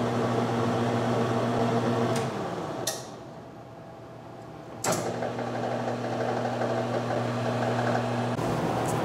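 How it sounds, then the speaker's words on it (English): A lathe cuts a thread with a 10 mm by 1 metric tap, a steady machine hum with a tonal whine that cuts out briefly midway and then resumes, loud and close with no talk. "Next, we'll go ahead and do a 10 millimeter by 1 metric tap."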